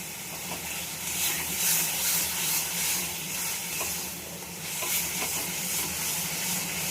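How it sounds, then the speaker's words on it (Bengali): A mashed vegetable dish is stir-fried with added sugar in a pan, giving a steady sizzle under continuous scraping and stirring strokes that swell and ease in a loose rhythm. "চিনি দিয়ে ভালো করে কষিয়ে খুব ভালো করে নাড়াচাড়া করে এটা সুন্দর একটা ভর্তা বানিয়ে নিতে হবে।"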